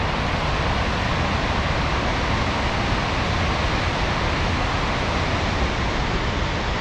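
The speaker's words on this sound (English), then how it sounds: "there's a lot of water going down" Loud, steady rushing of a fast river, a dense unbroken roar of churning water with no pauses or voices.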